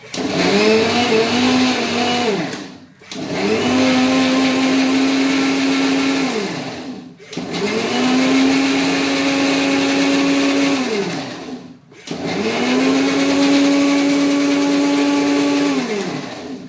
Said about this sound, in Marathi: हे मी आता मिक्सरला फिरवून घेते आहे।